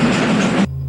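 Loud, dense rumble of an animated train running on rails, steady and close, cutting off abruptly near the end to a low hum.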